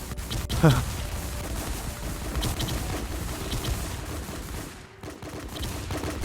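Gunfire from a shooter video game crackles in repeated bursts and single cracks, one loud close shot standing out early, while someone talks over the shooting.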